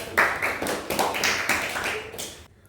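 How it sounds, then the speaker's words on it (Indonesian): Applause from a small classroom group, a short run of uneven, close hand claps with distinct individual slaps, fading out after a couple of seconds. "Kasih tepuk tangan dong, Bu."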